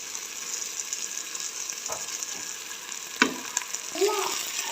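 Fried okra tossed into a pan of spices roasting in a little ghee gives a steady close sizzle, with several louder stirring scrapes and clunks toward the end.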